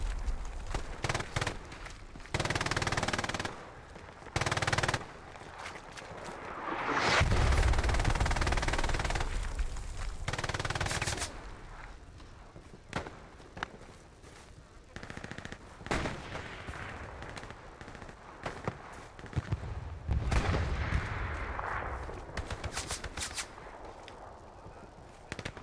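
Battlefield gunfire from Hell Let Loose: scattered rifle and machine-gun shots and distant booms, some near and loud, others far, over a rumbling combat backdrop.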